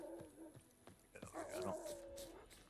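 A dog in the video game The Witcher 3 whimpers and yips excitedly in a short burst of high, wavering cries, mid-distance, with faint game background sound and a little talk.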